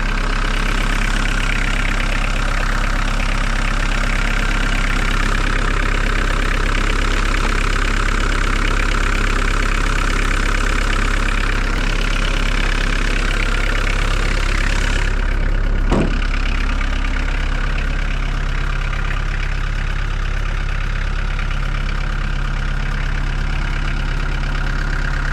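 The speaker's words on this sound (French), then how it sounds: "C'est du gros diesel à l'ancienne." An old heavy diesel engine in a Jeep idles with a low, steady rumble and clatter, continuous throughout, with a brief knock midway.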